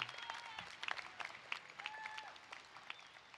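Audience applause at a university commencement ceremony for a college of science and mathematics, scattered clapping that stays fairly light and even throughout, with some crowd noise beneath.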